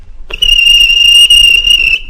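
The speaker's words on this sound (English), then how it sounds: "blew the guard's whistle" A guard's shrill whistle blown by the Fat Controller on a railway platform, one long steady high-pitched blast lasting nearly two seconds, loud and alone.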